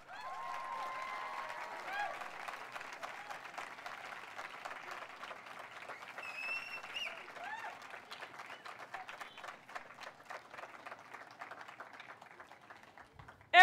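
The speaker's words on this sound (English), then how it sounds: "Please give your support networks a round of applause" Faint, distant applause from the crowd at a law school hooding ceremony, steady clapping that thins out gradually, with a few faint voices and tones mixed in before a sudden loud knock at the end.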